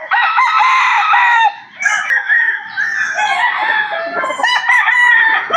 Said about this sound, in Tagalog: papakita pa natin yung kanilang mga manok rito